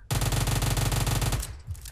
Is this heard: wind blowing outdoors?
no